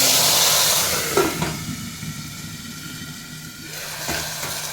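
Tomatoes sizzle in a hot pan for rasam, a steady close-up hiss and crackle of frying with a few soft stirring bumps and no talk.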